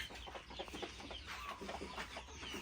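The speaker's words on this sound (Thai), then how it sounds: "ไก่อายุห้าเดือนเดี๋ยวพาไปเปิดประตูดูครับ" Five-month-old Saigon breed young roosters in a pen in Kalasin, clucking steadily in a dense overlapping chorus after feeding, with continuous low background noise.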